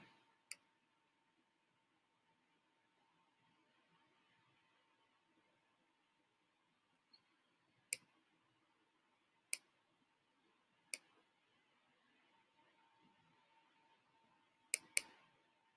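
A computer mouse clicks sharply in a quiet room: a few sparse single clicks spaced seconds apart, then a quick double click near the end, with a faint steady hum beneath.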